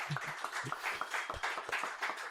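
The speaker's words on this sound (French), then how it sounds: "Je pense qu'il mérite une main d'applaudissement." A small audience claps quietly, with scattered uneven handclaps in a loose rhythm rather than a full ovation.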